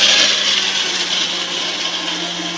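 A blender whirring steadily as it mixes a chocolate shake at home, a loud continuous motor whine with a bright grinding wash that eases slightly toward the end, with no talking over it.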